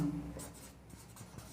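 Chalk or marker scratching across a classroom board during a chemistry lesson on naming alkanes, steady faint strokes with brief squeaky bursts, close and alone without talk.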